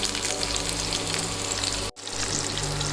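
Loud, steady sizzling of ginger frying in hot oil, with a brief sharp dip in the crackle partway through before it resumes.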